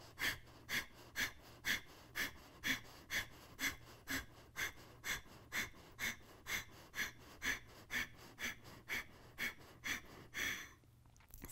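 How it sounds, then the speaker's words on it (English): Breath of fire in a yoga flow: rapid, rhythmic forceful exhales through the nose, about two per second, close and steady for several seconds before releasing. "and breath of fire"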